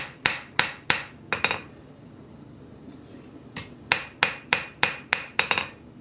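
Hammer blows forging the bevels of a knife blade, in two clusters of sharp, ringing metallic strikes, a few quick hits, a pause, then a steady run of about eight evenly spaced blows, loud and close in a workshop.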